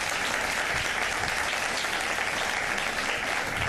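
Steady, dense applause from a studio audience on a Pakistani morning TV show, loud and unbroken throughout, with no voices audible.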